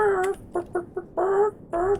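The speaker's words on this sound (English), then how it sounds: "Look in there, those are chickens." Chickens in the farming game Starioneers New World cluck in a series of short, clear calls, several brief bursts followed by two longer sustained clucks, close and alone with no talking.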